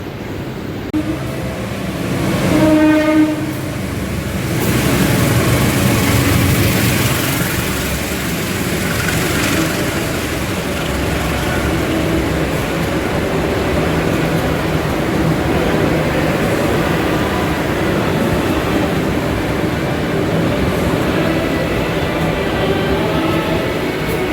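The Pasundan passenger train in Indonesia rumbles past at close range, loud and continuous, with a brief tonal horn-like blast near the start before the steady roar of carriages.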